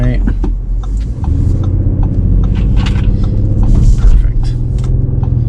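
A 2021 Audi SQ5 driving along slowly, its engine a low, steady rumble with road noise and a few scattered clicks and knocks, close and continuous throughout.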